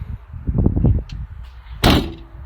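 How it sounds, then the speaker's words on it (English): A Land Rover Defender door fitted with its original seals: a few low knocks and handling thuds, then a single loud, sharp slam as the door shuts, close by with no voices. "Back on the original door seals."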